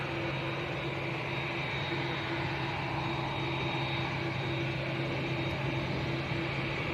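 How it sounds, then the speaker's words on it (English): A TUI Boeing Dreamliner jet at Manchester Airport roars steadily and loudly with a constant engine drone and faint tonal whine, heard alone without talk. "TUI Dreamliner to Tenerife South."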